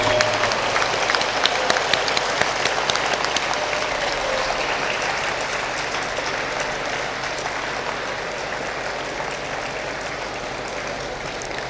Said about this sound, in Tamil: அனைவரும் எழுந்து நின்று உங்கள் கரகோஷங்கள் மூலம் உங்களது நன்றியை தெரிவிக்க வேண்டும்